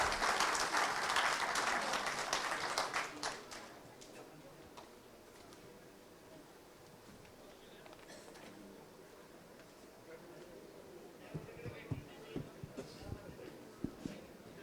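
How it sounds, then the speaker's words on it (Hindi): An audience at a political conclave in Haryana bursts into applause to welcome a speaker; the clapping is strong for a few seconds, then dies away, leaving a quiet hall with scattered talk and small knocks. "एक बार फिर से जोरदार तालियों से अभिनंदन कीजिए"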